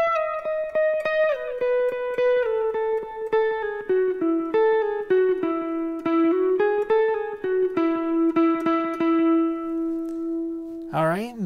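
A clean electric guitar plays a melodic run of plucked notes with pull-offs and sliding pitches, ending on a bent note, close and solo.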